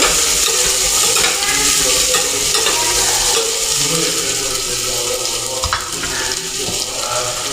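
Onions frying in a pan sizzle loudly and steadily while being stirred, with scraping and clinking from the utensil throughout a home kitchen cooking session.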